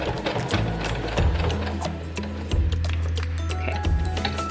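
A sewing machine stitches thick fabric for a microwave hot pack, including a few back stitches. Its loud, steady mechanical whir and rhythmic needle clatter run continuously from start to finish with slight starts and stops.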